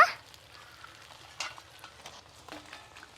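Fish frying in a pan, a quiet continuous sizzle with a few light scrapes and clinks close by.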